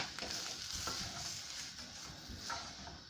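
Onions, ginger and dry spices being stirred in a frying pan, a soft continuous sizzle with scraping spoon strokes against the pan, quiet and close.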